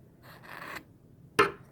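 Scissors snip the yarn tail on a finished half double crochet beanie, a brief quiet rasp of blades followed by one sharper, louder snip near the end, with no talk over it.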